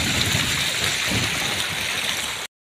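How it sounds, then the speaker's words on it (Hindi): River water rushing and flowing steadily, a continuous broad wash at close range that cuts off abruptly; no talking. "इतना पानी जा रहा है, पूरा पानी पानी है।"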